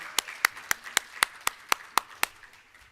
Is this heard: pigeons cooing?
no